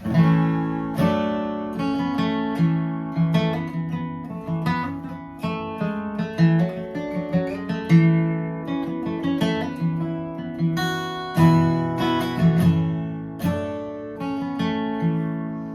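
A bright acoustic guitar riff played alone with a capo, repeating a strummed and picked pattern from a G shape with ringing high notes and steady rhythm.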